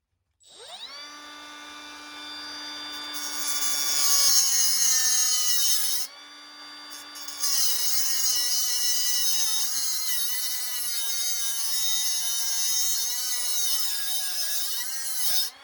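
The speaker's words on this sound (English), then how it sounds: "But this is a little Milwaukee cutoff wheel. So I'm going to trim this material." A small Milwaukee cutoff wheel trims material during a circuit breaker interlock install, giving a high, steady whine that runs for several seconds, cuts out briefly, then spins back up and holds.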